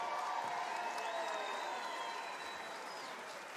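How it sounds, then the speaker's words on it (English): An arena crowd at Madison Square Garden applauds both boxers after a ten-round fight, a broad, roaring wash of clapping and cheering that slowly fades, with a faint whistle-like tone drifting over it. "could we get a nice round of applause out here for both of these fighters,"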